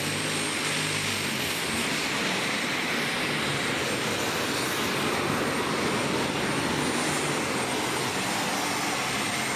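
A pro stock pulling tractor roars down the track at a Farley, Iowa pulling event, a loud continuous high-revving engine drone with a whining top end, sustained throughout with no talk.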